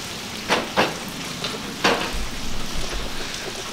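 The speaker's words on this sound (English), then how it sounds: "look, it's raining in LA." Rain falls outdoors in Los Angeles, a steady fine patter with a few sharper drips and taps close by, and no voices over it.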